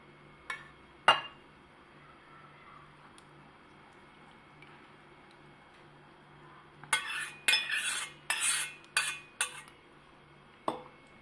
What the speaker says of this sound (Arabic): ونقلب فيهم